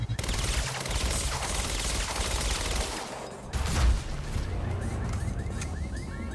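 Dense, continuous gunfire in Quantum Break, with a thick wash of shots and a heavy thump partway through, loud and constant across the whole span.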